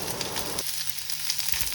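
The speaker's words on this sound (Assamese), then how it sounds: "এতিয়া মই কেৰাহীখন গৰম কৰি ইয়াত ভেজিটেবলছ যোনখিনি আছিলে সেইখিনি অকণমান ভাজি ল'ম প্ৰথমতে পিঁয়াজ দি ল'ম" Onions and vegetables frying in a hot kadai, a loud close sizzle that drops abruptly to a quieter steady hiss partway through, with no talking.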